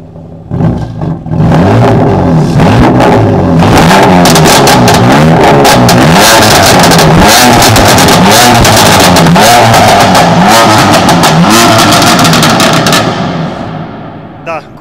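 A BMW M4 set to its fourth engine map revs hard and loud at close range, with repeated rising and falling surges and crackles over about thirteen seconds; voices can be heard alongside.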